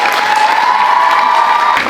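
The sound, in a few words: audience applauding at a school play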